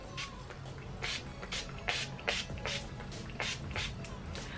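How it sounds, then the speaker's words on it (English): Urban Decay All Nighter setting spray misted over a made-up face, several short hissing bursts in quick succession, close and fairly quiet, with faint background shuffling between sprays. "Just going to set it all with the Decay All Night Spray."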